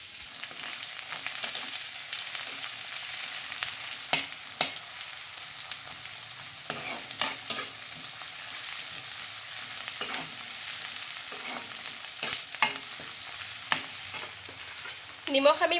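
Garlic, ginger and onions fry in oil for an Assamese-style mutton curry, giving a steady, dense sizzle throughout with scattered scraping and stirring clatters and a brief squeak near the end.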